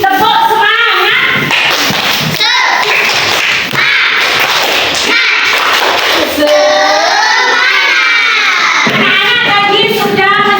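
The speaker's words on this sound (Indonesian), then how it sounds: "Coba sekarang anak-anak tepuk semangat." Schoolchildren in a classroom perform a rhythmic spirit clap, sharp claps landing in patterned bursts mixed with loud chanting voices, close and energetic throughout.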